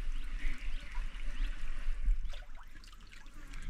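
Water trickles steadily through cracks between two rocks at a natural rock pool in Konkan, Chiplun, a soft continuous burble with faint splashes, quiet and close.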